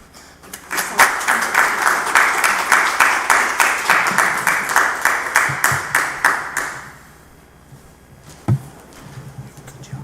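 Audience at a borough council meeting in Madison, NJ breaks into applause, a fairly close burst of rhythmic clapping that lasts several seconds, then fades out, followed by a few scattered claps.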